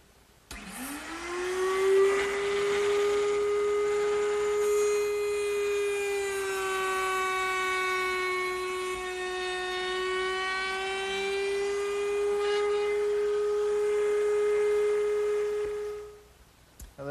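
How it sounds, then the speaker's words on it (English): Router table with a pilot-bearing bit, fence removed, cutting a rounded-over edge along the inside of a wooden arch for a corner cupboard: a steady loud motor whine held for about fifteen seconds, pitch dipping slightly under load, then winding down, no talk. "Now to put this rounded over edge on the inside of this arch, I just used the router table"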